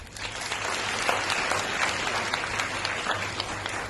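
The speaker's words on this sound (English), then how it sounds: "A big clap for them." A crowd at a school cultural programme gives sustained applause, a dense, even roar of many hands clapping for several seconds at fairly high volume.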